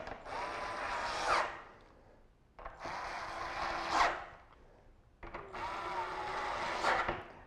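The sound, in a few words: drill tightening hydrofoil deck bolts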